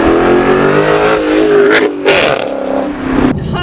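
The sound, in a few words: Chrysler 300C SRT8 6.1 liter Hemi V8 accelerating hard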